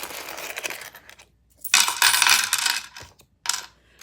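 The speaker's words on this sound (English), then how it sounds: "you're going to want to grab some coins, just throw them in there wherever." Handfuls of coins clatter into a drum pad in scattered metallic bursts, bright jingling splashes separated by short pauses, close and fairly loud.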